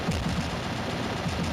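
Rapid, continuous gunfire from the mobile shooter game Mini Militia, fired while the player's character flies, a dense unbroken burst of shots at steady loudness throughout.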